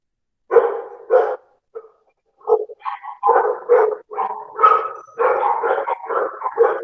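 A dog barking nearby in a series of loud, irregular barks and yips, some running together in quick bursts, with no clear talk over them.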